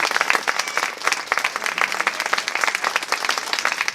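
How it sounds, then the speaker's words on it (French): An audience at a street-theatre festival claps warmly, a dense continuous wash of many hands at close to moderate distance, holding steady for several seconds with no voices over it. "on peut l'applaudir"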